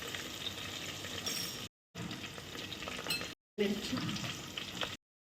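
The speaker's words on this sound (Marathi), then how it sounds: "चला आता फोडणी करायची आहे. तेल बस टाकून घेतलं. कढीपत्ता, ठेचलेला लसूण" Tempering for sambar sizzling in hot oil with curry leaves, crushed garlic and cumin, a close, steady crackling fry heard in three short bursts separated by brief silent cuts, with a single word spoken.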